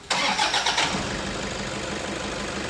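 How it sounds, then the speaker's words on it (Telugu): A 2011 Toyota Fortuner 4x4 with a 3.0L engine cranks and catches almost at once, settling into a steady, fairly quiet idle heard up close. "సో ఇంజన్ స్టార్ట్ చేయ బ్రో,"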